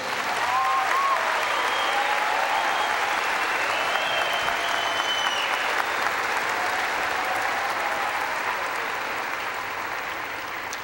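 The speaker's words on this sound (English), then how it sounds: "Round of applause for Dr. Fairbanks." A large crowd at a university freshman convocation applauds Dr. Fairbanks in a sustained, loud wash of clapping that holds steady for the full stretch and eases slightly near the end, with faint scattered voices beneath it.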